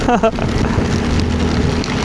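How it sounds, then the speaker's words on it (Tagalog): Heavy rain pours down during a mountain trip in Benguet, making a dense, steady hiss close by; a brief voice sounds at the very start. "kahit malakas yung ulan"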